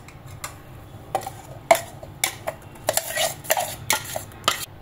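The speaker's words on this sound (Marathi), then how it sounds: "इथे मी एक भांडं घेतलंय, यामध्ये आता आपण हे मिश्रण काढून घेणार आहोत" Mixed dal batter for bhaji is scraped and spooned from one vessel into a pot, giving a string of sharp metallic clinks and taps at an uneven pace, close and fairly quiet.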